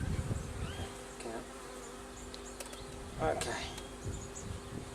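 Honey bees buzz around an opened hive in a garden during a pre-harvest check, with scattered faint insect tones over a low steady hum and a few brief bursts of nearby talk.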